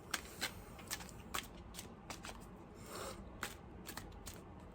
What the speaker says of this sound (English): So let's give this a shuffle.